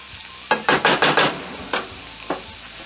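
Cheesesteak filling with vegetables being mixed in a hot pan, a quick run of five scraping stirs followed by two more spaced strokes over a low sizzle.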